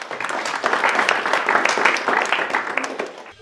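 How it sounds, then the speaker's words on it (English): A round of applause from the audience at a STEMM speed-networking masterclass, a sustained burst of clapping that swells, holds steadily and tapers off at the end. "A round of applause."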